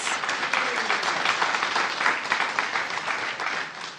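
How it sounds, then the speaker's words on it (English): An audience applauds at a guide dog graduation ceremony. A steady wash of clapping carries on evenly at moderate volume throughout. "Let's give everyone a round of applause."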